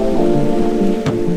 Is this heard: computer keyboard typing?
no